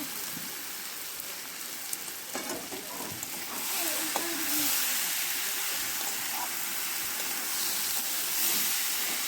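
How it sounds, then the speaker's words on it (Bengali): Soaked rice frying in hot ghee in a pan for pulao, giving a steady hissing sizzle that grows louder after a few seconds and continues without any talk. "এবার আমি মেখে রাখা চালগুলো ঘিয়ের মধ্যে দিয়ে দেব।"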